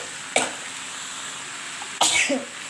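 Two short, sharp coughs from a cook irritated by the fumes of chillies frying in the kitchen, spaced over a second apart against a faint background hiss.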